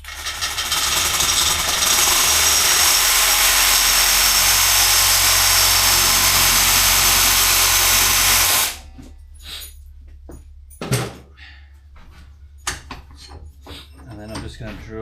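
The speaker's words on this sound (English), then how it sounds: "So I'm just going to cut off the choke assembly on the side of it" Power saw cutting the choke assembly off the side of a carburettor on a Holden HX under restoration, a loud steady grinding drone for about eight seconds that stops abruptly, followed by scattered clanks and handling knocks.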